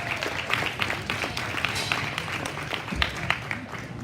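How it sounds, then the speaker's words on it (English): Crowd applause for the senior showmen at a swine show, a steady wash of clapping from a large audience that holds at an even level for the whole stretch, with no one speaking over it. "Let's give them a big round of applause."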